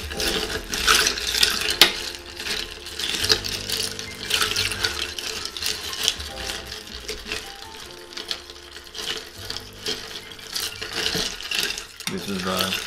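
Ice rattling and sloshing as a cocktail is stirred or mixed by hand, a busy clinking, splashing texture running steadily throughout, close and fairly loud with brief pauses.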